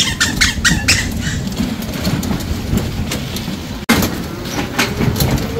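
Train running along the track on the way from Dhaka toward the Indian border, heard from on board: a steady low rumble and rattle fills the whole clip, with a brief dropout near the end.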